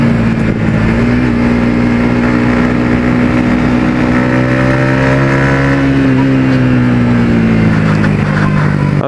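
A Yamaha XSR 155 cafe racer motorcycle fitted with an R25 exhaust revs loudly and steadily, its engine note holding then rising slightly before easing back, close by with no voices.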